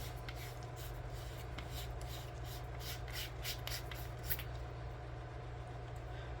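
Tail cap of an Armytek Dobermann Pro flashlight being unscrewed on lubed threads, giving a faint, close, continuous rubbing and scraping with small repeated clicks, no voice.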